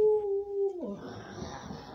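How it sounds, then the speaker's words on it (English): A cartoon werewolf gives a single short, tonal howl that drops in pitch, followed by a faint breathy rasp, heard alone and fairly quiet. "I can hear growling sounds."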